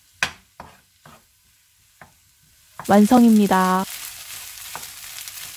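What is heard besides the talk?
stir-frying fried rice with oyster sauce in pan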